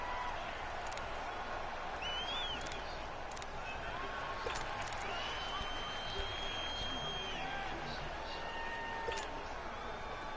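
Football stadium crowd cheering during the 4th quarter ahead of a big 3rd down, a steady broad roar of many voices with scattered whistles and claps, sustained and loud throughout without a break.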